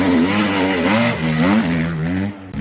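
A motocross motorbike on a local muddy track, close and loud, its engine revving up and down in rising and falling pitch sweeps as it comes out of a top corner, then cutting off abruptly.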